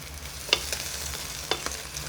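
An egg fries in a pan, crisp on the outside and soft inside, a steady close sizzle with a few scraping stirs and light clinks of a utensil, no talk.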